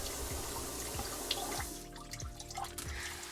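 Water running from a sink fitted with a garbage disposal under repair, with a steady close flow and splashing, plus rhythmic drips and knocks and a faint tonal hum in the second half.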